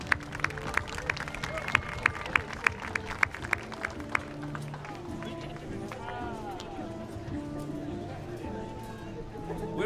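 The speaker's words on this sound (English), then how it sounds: "So once again, another round of applause for our quick response teams here" A crowd at an international buhurt fight event applauds the quick response medical teams with a burst of clapping and cheering that quickly fades into steady crowd murmur.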